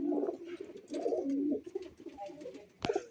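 Pet pigeons, including a female, coo in soft repeated bursts close by, with a brief sharp rustle near the end.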